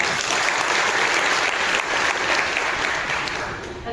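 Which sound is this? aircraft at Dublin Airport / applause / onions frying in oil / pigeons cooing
applause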